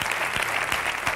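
Studio crowd at an El Conquis reality-show debate claps in a full, steady burst, a few sharper individual claps punching through the dense applause.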